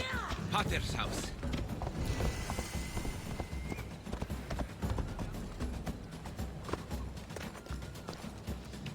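Horse hooves clip-clop in Assassin's Creed Odyssey, a steady rhythmic trot mixed with creaking and mechanical game sounds and a dense ambient bed, fairly loud throughout.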